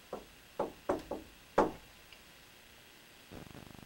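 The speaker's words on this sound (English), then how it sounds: "I got a knock." Sharp knocks on a wall inside a house in West Texas, five distinct raps in an uneven rhythm followed by a faint tap and a brief rattle, heard in an otherwise quiet room.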